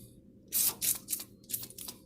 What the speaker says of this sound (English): We're going to go ahead and spray some PB Blaster on that because they're a little rusted and look rough.